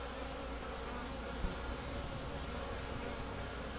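Honey bees buzz steadily around a hive on a winter morning, a dense, even hum with no talk.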